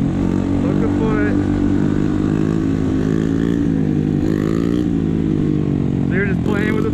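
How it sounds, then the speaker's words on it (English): A motorcycle engine drones loud and close as the rider works the throttle, its pitch rising and falling with each twist, while people talk over it. "So you're just playing with the throttle there."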